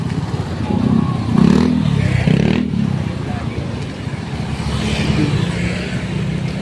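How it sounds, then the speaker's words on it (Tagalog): Heavy, slow-moving road traffic with cars and motorcycles, a steady low engine drone with occasional revving and clatter close by, while people talk over it. "Ang haba ng traffic."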